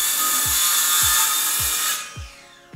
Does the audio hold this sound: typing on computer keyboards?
no